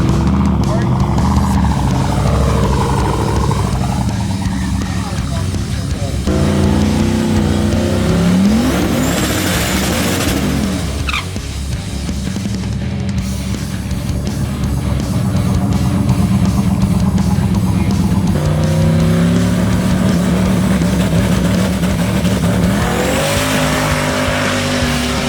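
A Dodge Hellcat drag car with a parachute accelerates at a drag strip, its engine roaring loudly and continuously with rising and falling pitch, while people talk and cheer nearby.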